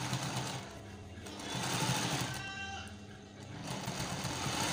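Sewing machine stitching the pocket of a senator suit, its steady mechanical whir running continuously and fairly close, swelling slightly in the middle with no talk over it.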